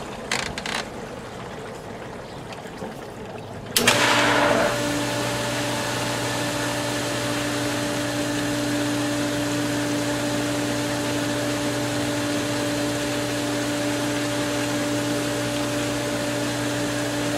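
A pool sand filter pump switches on partway through, its steady motor hum and rushing water flow settling into a constant loud drone while set to rinse.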